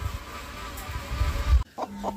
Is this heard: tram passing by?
no